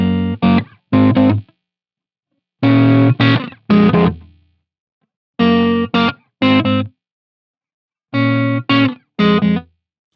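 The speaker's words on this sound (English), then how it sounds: "That main like guitar part sounds like this." Distorted electric guitar playing the main rhythm part of a song, tight chugging chord stabs in short grouped bursts with silent gaps between them, loud and alone.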